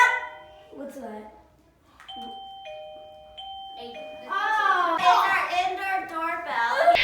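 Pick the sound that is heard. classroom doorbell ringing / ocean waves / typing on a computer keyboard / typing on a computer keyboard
classroom doorbell ringing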